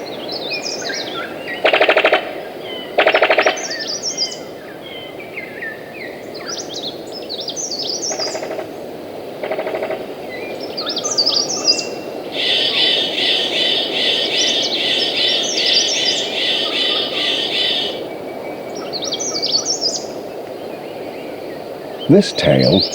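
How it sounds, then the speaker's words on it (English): Harsh, rattling calls of a brown sicklebill bird of paradise ring out in bursts through a misty Papua New Guinea forest chorus of other birds, with a sustained machine-gun-like stretch in the middle. "A brown sicklebill bird of paradise."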